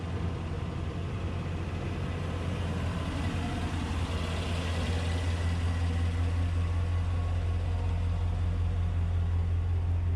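A 2020 Chevrolet Silverado 2500HD Custom pickup truck rumbles with a steady, deep engine drone and constant air noise from inside the cab on a hot day in northern New Jersey, loud and even throughout as it backs out.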